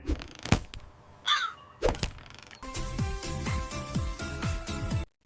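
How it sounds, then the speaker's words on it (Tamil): Crows caw in an animated Tamil moral story set in a green forest, several sharp separate calls standing out clearly, followed by a busier stretch of rhythmic knocking and cracking sounds. "காகம் ஏன் இப்படி கத்துகிறது"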